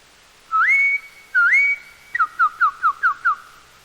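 A whistled imitation of a cardinal's song: two clear rising slurred notes, then a quick run of six short descending chips, close and distinct.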